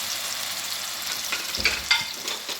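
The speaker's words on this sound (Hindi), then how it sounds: "हाफ कप आपने ऑयल डाला पैन के अंदर और 2 बारीक चॉप की हुई प्याज, 2 चॉप की हुई प्याज मैंने डाली।" Finely chopped onions fry in half a cup of oil in a pan, giving a dense steady sizzle with a few soft stirring bumps, close and without talk.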